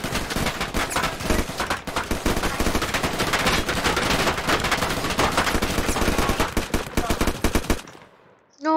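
Video game war roleplay gunfire: rapid automatic bursts and overlapping shots crackle loudly and almost continuously for nearly eight seconds, then cut off into brief quiet before a voice starts.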